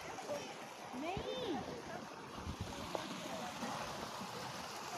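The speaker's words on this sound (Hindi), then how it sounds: "तो अब मैं आपको छोटी सी वाटरफॉल दिखाती हूँ।" A small waterfall on a forest hiking trail near Islamabad gives off a soft, continuous rush of falling water, fairly quiet and steady, while someone talks over it and brief bird-like chirps come through.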